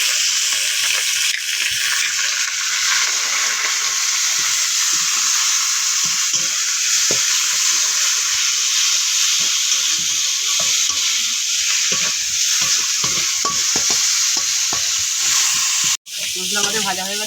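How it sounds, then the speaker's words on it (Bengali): Ground spice paste of ginger, cumin, coriander, chilli and potato sizzles and fries steadily in oil for a spinach curry, a loud continuous crackle with faint stirring, ending in a brief clatter. "মশলা আমাদের ভাজা হয়ে গেছে, খুব সুন্দর তেল বেরিয়েছে"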